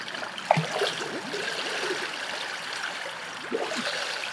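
A child blows bubbles face-down in swimming pool water during a front-float lesson, giving soft gurgling and bubbling splashes, faint and close, with a couple of brief sharper bursts.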